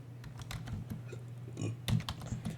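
Typing on a computer keyboard during a Linux shell scripting lesson, a quick run of light, close key clicks in irregular bursts over a low steady hum, with no talk.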